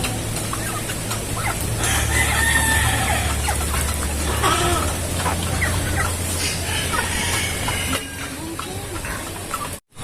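Broiler chickens raised in a poultry pen cluck and call continuously at close range, with a busy layered chorus of birds and a steady low hum underneath, no talking.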